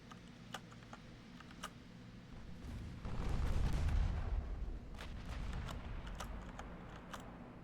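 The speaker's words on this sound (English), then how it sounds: "Battleships are still engaging the enemy." Naval battleship guns in Ultimate Admiral: Dreadnoughts give a deep, distant rumbling salvo swelling mid-clip, with faint scattered clicks around it and no speech.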